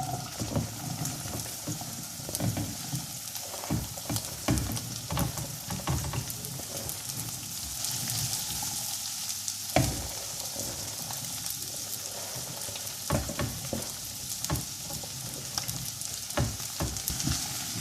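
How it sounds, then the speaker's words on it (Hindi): Cut okra frying in half a cup of hot oil in a pan, a dense, steady hiss and crackle like rain, with occasional sharper pops and stirs throughout. "इसको मैं इसमें फ्राई करूँगी।"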